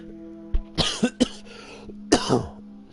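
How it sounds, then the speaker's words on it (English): Someone with a cold and stuffy nose coughs several times in short, harsh bursts, with a throat-clearing rasp between, close up over a faint steady hum. "you can hear the cough"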